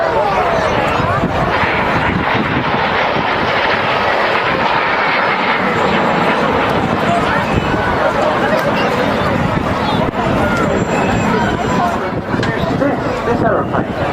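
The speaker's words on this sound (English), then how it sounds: "running in at the Norwegian Air Force Vampire." A Norwegian Air Force de Havilland Vampire jet runs in at a seaside airshow, its loud, steady roar filling the scene with crowd chatter beneath.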